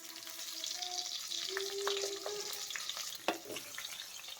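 Chopped onions, tomato, drumsticks, potato, carrot, beans, green chilli and okra sizzle steadily in a pan for sambar while a spoon stirs them, with scattered scrapes and clicks over the continuous frying hiss.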